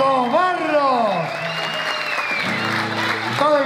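Audience applause at a live performance of Chilean tonada music by a folk group, a steady wash of clapping that swells near the start and end while a singer's voice and a sustained musical note carry over it.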